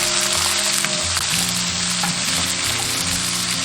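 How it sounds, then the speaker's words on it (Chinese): Pork belly stir-fried in a wok with green peppers, garlic, dried shrimp, dried mushrooms and a splash of cooking wine gives a loud, continuous hiss and sizzle, up close, with scraping stirs over the top. "一定要把这些所有的香味全部炒出来。"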